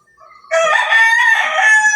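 Grey hatch cross hen, a single loud, close bird call rising sharply after a brief faint sound, held for over a second with a bright, harsh, crowing-like tone and no talk.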